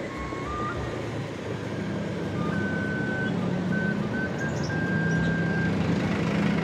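Reversing beeps from a truck repeat steadily over the continuous rumble of slow evening traffic in a jammed street in Cimahi, with engines idling and vehicles creeping past nearby.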